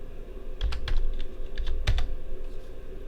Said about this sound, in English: thinking and typing at the same time.